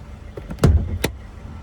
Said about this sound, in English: Power folding side mirrors, blind spot monitors and those.